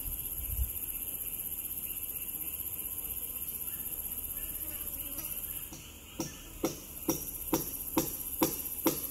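Steady high-pitched buzz and whine of honey bees at a large hive on a branch fills the scene, joined near the end by a series of sharp rhythmic taps.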